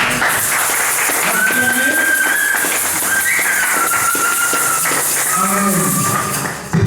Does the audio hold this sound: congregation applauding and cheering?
yes